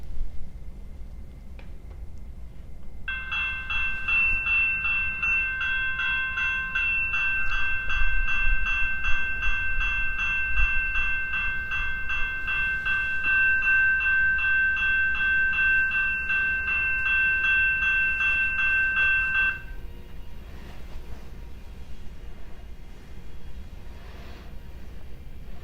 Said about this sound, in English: I'll pick the second bell so you can hear what that sounds like.